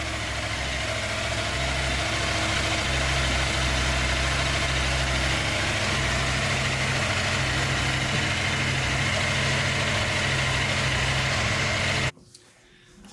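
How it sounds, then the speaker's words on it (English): A KTM motorcycle engine idles with a freshly installed OEM timing chain, a steady, even, close rumble that runs for about twelve seconds before it suddenly cuts to near silence. "Absolutely like you would expect a brand new bike to sound."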